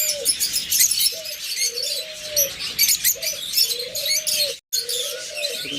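Albino red-eye pigeons on a bird farm coo in a repeated low, rolling rhythm, close and clear, over dense chirping and twittering from many other birds.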